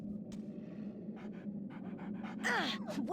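A puppy in Metal Gear Solid: The Twin Snakes pants in short, rapid breaths, close and soft, ending with a brief whimpering squeal.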